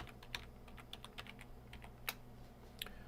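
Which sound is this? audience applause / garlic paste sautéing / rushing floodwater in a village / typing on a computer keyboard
typing on a computer keyboard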